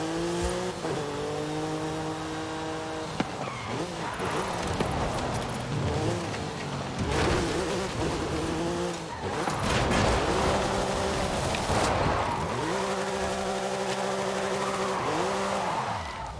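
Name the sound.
Vocho car engine throttling up in video game Forza Horizon 5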